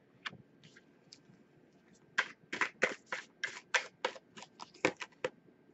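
Tarot cards are riffled and shuffled up close in a quick run of crisp, flapping bursts, faint at first and then steady and rhythmic.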